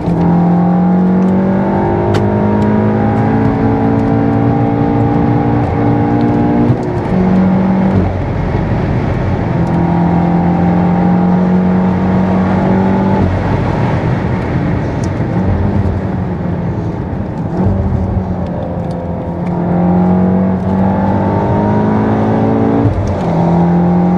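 A Stage 3 tuned Volkswagen Golf R is driven hard around a race track, its engine note climbing through the revs, dropping on each shift and braking zone, then rising again, loud and close from inside the car for over twenty seconds.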